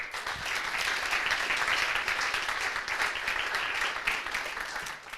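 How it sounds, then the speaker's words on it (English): An audience at a fireside chat applauding as a speaker comes on stage, a dense sustained burst of clapping from many hands that swells and then starts to thin toward the end. "So now I would like you to give a big round of applause to get"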